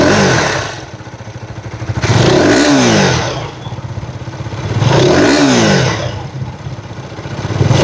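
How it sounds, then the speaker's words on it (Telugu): KTM Adventure 250 motorcycle with an underbelly exhaust, close by and standing still, revved twice in sharp bursts that rise and fall back to a rough, lumpy idle between them, with no talking. "ఒకసారి మీకు రెవిచ్ వినిపిస్తాను."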